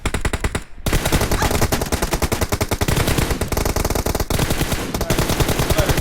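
Sustained automatic weapon fire in an online shooter match, loud rapid bursts running almost nonstop, broken by a few short gaps.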